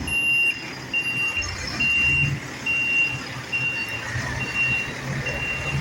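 A garbage truck reverses with a steady, evenly spaced high beeping alarm repeating over a rumbling engine and outdoor street noise, fairly close by.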